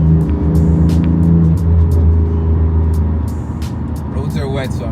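A BMW M4 Competition with a Dinan exhaust accelerates on a wet, curving road, its engine a loud, continuous low roar that eases off toward the end.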